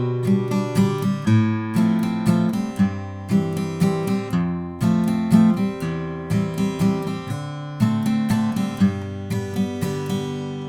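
An acoustic guitar strums the chords of a song in a steady waltz-like rhythm, a descending bass note picked out beneath each change, close and clear with no talking.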